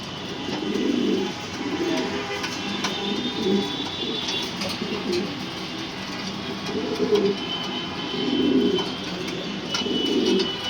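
Racing pigeons cooing in repeated low, throaty bursts, several overlapping calls close by over a faint background hum.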